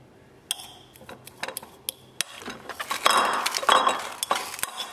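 Utensils clink and tap against a bowl while salad dressing with mustard or mayonnaise is mixed, a close, quiet series of irregular metallic and glassy chinks that grow busier toward the end.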